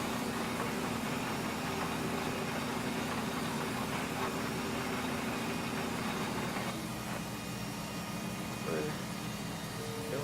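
A farm tractor works in a field, its engine droning steadily at close range as a constant mechanical hum, with someone talking over it.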